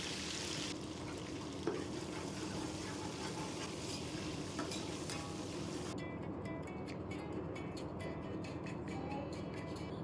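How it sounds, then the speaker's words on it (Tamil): A fistful of coriander leaves sautés in a pan while prawn biryani is cooked, giving a steady, dense sizzle and crackle that stays even throughout, with faint stirring scrapes and no voices. "கைக்கு ஃபுல்லாக ஒரு கொத்து மல்லி இலை சேர்த்து வதக்கி விட்டுறலாம்"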